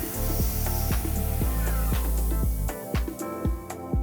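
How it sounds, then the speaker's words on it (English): CNC mill cutting a pocket in titanium along an adaptive toolpath makes a close, steady whine with a rhythmic scraping pulse about twice a second and a hissing undertone. "The pocket material is removed in an adaptive toolpath."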